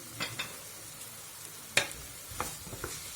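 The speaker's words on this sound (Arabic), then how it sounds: "خليوها تشحر مزيان. هنا غنضيف طماطم معلبه ملعقه كبيره." Food frying in a pan as canned tomato goes in, a faint low sizzle broken by a few soft stirring scrapes and one sharp utensil clink against the pan.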